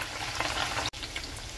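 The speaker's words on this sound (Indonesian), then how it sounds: "Goreng tahunya sampai matang." Tofu fries in hot oil with a steady, dense crackling sizzle, close and fairly quiet, broken briefly by one short gap.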